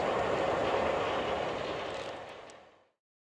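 A South Western Railway train runs with a steady rumbling roar that holds, then fades gradually into silence as it draws away.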